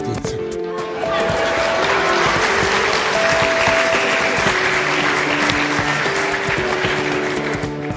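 A studio audience bursts into sustained, loud applause that fills the room after a brief lead-in, clapping steadily for several seconds while a voice continues faintly underneath.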